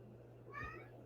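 Just outside a door, a cat lets out one short, faint meow over a quiet room hum.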